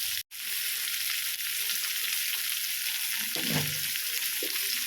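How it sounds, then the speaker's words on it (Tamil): Onions sautéing in a pan for paneer butter masala give a loud, continuous hiss of frying oil, with a short break near the start and a faint knock later on. "நம்ம போட்ட வெங்காயம் நல்லா வதங்கிடுச்சு."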